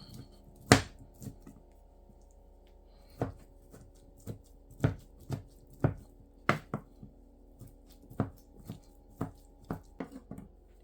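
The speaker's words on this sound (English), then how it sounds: "take it out of the pot, and we're just going to break it down into small bite-sized pieces" Slow-cooked honey garlic chicken being pulled apart by hand into bite-sized pieces, a series of soft, irregular squishing and tearing sounds at close range, spaced out with short pauses and no talking.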